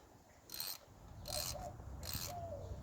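A ratchet wrench clicks as it turns a bolt during an engine EGR repair, three short bursts of rapid rasping ratchet clicks at close range, separated by brief pauses and set against a faint background hum.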